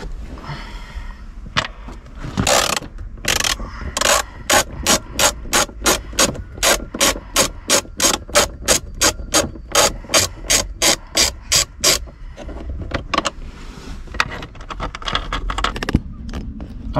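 Glove box screws being undone inside an Opel Astra H, an even series of sharp ratchet clicks in a long regular rhythm, close and alone, with some fumbling rustles before and after.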